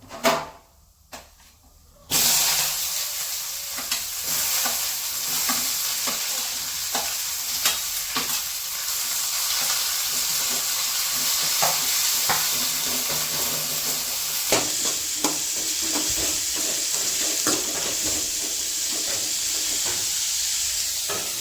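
Onions frying in peanut oil with mustard seeds, a close, continuous hiss and sizzle broken by frequent sharp clicks and scrapes of stirring, running for about twenty seconds after a brief quiet start.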